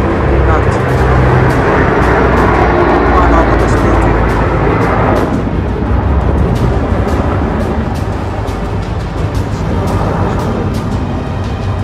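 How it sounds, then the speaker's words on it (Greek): A firefighting airplane passes overhead while dropping water during the 2021 Attica wildfires in Greece. It makes a loud, sustained roar that swells and fades, with crackling bursts and people talking nearby. "Περνάει αεροπλάνο, αδειάζει, ρίχνει."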